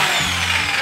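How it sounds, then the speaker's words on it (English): Electric drill rigged to spin a honey centrifuge, a steady close mechanical whir with a low motor drone held at even loudness throughout the short burst. "he went off and got a drill and rigged the system to have the drill go."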